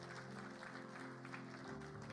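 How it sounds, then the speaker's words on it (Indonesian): A church congregation at GBI BCP Batam applauds during a sermon, giving a steady, fairly faint wash of clapping that lasts the whole stretch over a low background hum. "Tepuk tangan dong."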